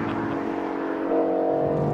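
A Ford Mustang Shelby GT350R with a flat-plane-crank engine holds a high, steady whine near its redline, climbing slightly in pitch midway through a brief stretch heard from inside the car.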